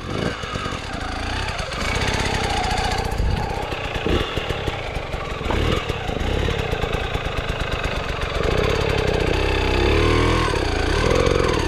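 A motorcycle engine runs close by, a loud steady mid-pitched drone with rising and falling revs, and people talking over it.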